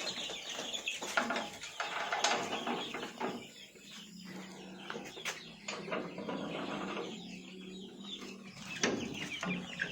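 Chickens cluck and murmur as they peck at greens in a coop, a busy mix of soft clucks, chirps and pecking noises, fairly faint and continuous with no talking.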